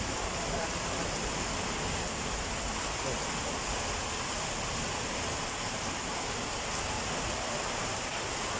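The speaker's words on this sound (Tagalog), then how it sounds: "ayun naman guys ang ulan" Heavy rain falls outdoors in Pasay, a dense, unbroken hiss that stays close and loud throughout with no pauses.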